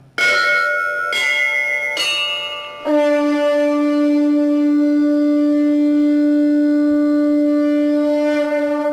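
Bell patch for bhajan on a Korg Kross 2 synthesizer: three loud struck bell tones in quick succession, then a fourth, lower one that rings on with a long sustained tone and no voices.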